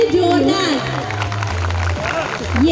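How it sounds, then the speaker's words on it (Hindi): Dense, loud applause from the audience at the Gyan Jyoti school annual function rolls on steadily beneath a voice that carries through most of the stretch. "तालियां बजाइए जोरदार"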